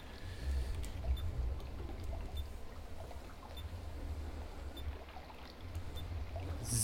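A river flows nearby on a wet, rainy day, a steady broadband rush of water with continuous low rumble and no pauses, moderately loud throughout.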